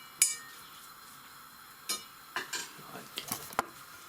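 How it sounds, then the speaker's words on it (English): A fork and teaspoon working tuna in a bowl, a few scattered metallic clinks and scrapes spread sparsely over a quiet background. "Mash the tuna up with the fork"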